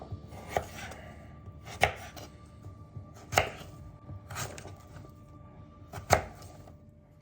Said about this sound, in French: à l'aide de mon couteau, je vais retirer une partie de la peau